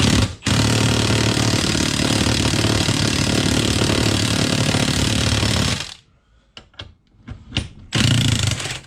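Loud continuous mechanical whirring of a power tool loosening Bilstein 5100 front shock bolts on a 2020 Chevy Silverado, running steadily for about six seconds, then brief short bursts after a pause.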